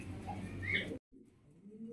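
Fancy pigeons cooing, soft low coos from nearby birds for about a second before a brief gap, then quieter murmuring calls return.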